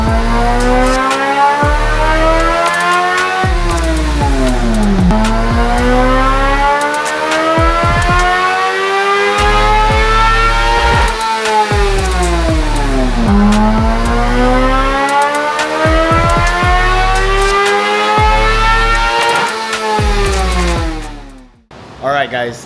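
A 2023 Suzuki GSX-R750 motorcycle engine revving hard, loud and close, repeatedly climbing in pitch through long sweeping pulls with brief dips between them, then cutting off abruptly at the end.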